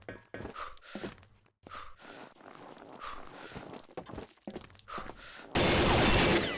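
Video game gunfire comes in separate sharp bursts amid shuffling movement, ending in a loud, dense burst of shots, fairly close and without talk.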